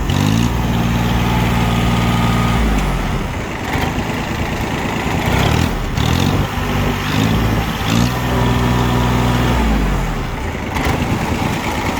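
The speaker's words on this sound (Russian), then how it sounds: "Собственно, работа двигателя." A small Yanmar F14D tractor diesel engine idles steadily up close, a loud continuous low thrumming with slight shifts in pitch and a few brief dips.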